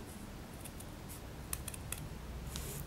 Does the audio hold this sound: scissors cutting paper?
yes